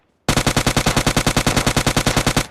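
Automatic gunfire in PUBG Lite, a single continuous burst of rapid, evenly spaced shots, loud and close, with no other sounds.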